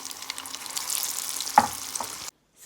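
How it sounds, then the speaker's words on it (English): Potato and spinach balls drop into a hot pan of oil, four at a time, and a soft frying sizzle follows with a couple of brief clicks before the sound cuts off. "So they're going in to fry."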